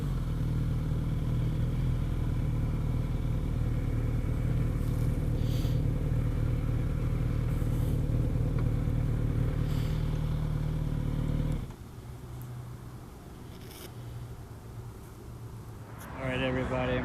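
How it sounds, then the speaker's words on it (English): A 2018 Kawasaki Z900RS motorcycle on a test ride, its engine a steady loud drone with wind rush that holds for about eleven seconds, then drops to a lower, quieter idle before picking up again at the end. "just finished test driving the 2018 Kawasaki Z900RS"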